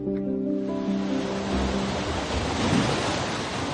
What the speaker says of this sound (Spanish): La gran tormenta.